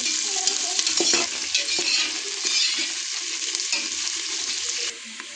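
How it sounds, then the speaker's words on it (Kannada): Onions frying in a pan for pulao, a steady close sizzle with scraping stir strokes of a spoon throughout, no talk. "ಸೊ ನೀವು ನೋಡ್ಬೋದು ಫ್ರೈ ಆಗ್ತಾಯಿದೆ"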